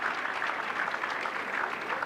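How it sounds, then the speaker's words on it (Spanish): Audience applause at a lecture on surface property rights, a steady, dense patter of many hands clapping together at moderate volume with no speech over it. "todavía ni pedimos el aplauso,"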